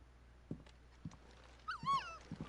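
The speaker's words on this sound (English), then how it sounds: "Baby Torgo, puppy Torgo" Torgal, the wolf-dog companion in Final Fantasy XVI, lets out a short, wavering whine near the middle, set among a few soft thuds like footsteps over a low, quiet game backdrop.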